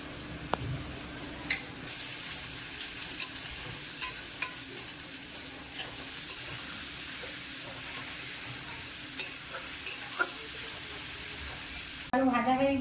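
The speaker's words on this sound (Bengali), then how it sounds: "ভালো করে ভাজা হয়ে গিয়েছে গ্রেট করা রসুন দেবো" Steady sizzling of grated garlic frying with fish in a pan, with scattered sharp clinks of a utensil stirring, continuing evenly throughout.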